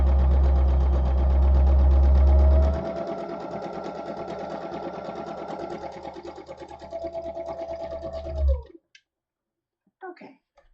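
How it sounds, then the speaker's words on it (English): Close sewing machine stay stitching a summer tunic front piece, starting with a heavy motor surge, then running steadily until it halts near the end, followed by a few faint handling sounds. "There's my stay stitching for my front piece."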